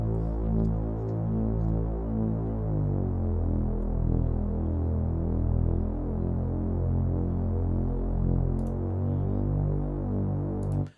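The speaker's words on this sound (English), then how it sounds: "y'all know what the filtered bass sounds like this" A deep, droning low-pass filtered saw wave synth bass with a dark, muffled tone plays sustained notes that shift in pitch, steady and loud with no voices.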